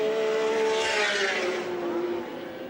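Peter McLeod's Slick 50 touring car races at Lakeside in 1984, its engine note rising as it nears and then falling away as it passes, loud and steady throughout.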